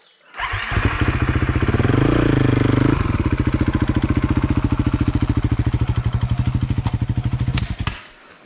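A new Husqvarna dirt motorcycle revs up and rides down a muddy stream, its loud close engine pulsing with rapid thumping firing beats, rising then settling into a steady chug before cutting off.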